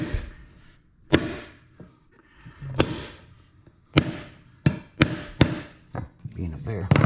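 Sharp blows from a small white hammer tapping laminate flooring planks in a single-wide mobile home ring out one at a time at irregular intervals, loud and close, with scraping and shuffling between strikes.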